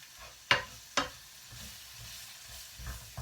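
Onions with herbs frying in a pan while being stirred for okra, giving a soft, low sizzle punctuated by two sharp scraping clacks of the spoon early on and quieter stirring after.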